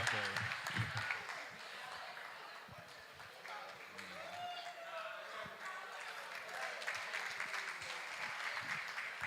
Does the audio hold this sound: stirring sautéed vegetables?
no